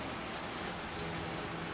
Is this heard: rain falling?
yes